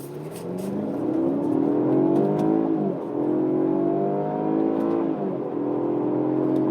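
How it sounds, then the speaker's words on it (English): A Jaguar XE P300S AWD pulls away from first gear, its engine droning loud and steady from inside the cabin, rising in pitch through each gear before two shifts briefly drop the revs. "Even though I'm starting off in first manually, it's still damn slow."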